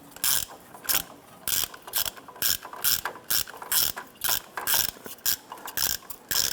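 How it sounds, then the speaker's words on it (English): A bolt on a sway bar end link of a 2015-2020 Cadillac Escalade's front suspension is snugged up with a ratchet, giving a steady run of quick, close clicking bursts in regular strokes with no talk. "What I'm going to do is snug our bolt up here"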